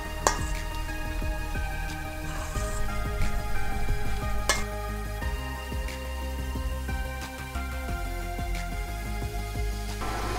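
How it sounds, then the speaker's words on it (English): Korean eggplant salad being mixed in a bowl, with steady wet stirring and tossing, scattered soft clicks and taps of a utensil against the dish, close and continuous with no talking. "And now we're gonna give this a good mix here."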